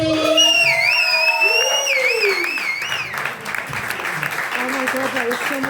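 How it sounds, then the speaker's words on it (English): An audience at a stand-up comedy show in Cyprus breaks into sustained applause and some cheering, with a voice speaking over the clapping as it fades. "A round of applause for Mike, please."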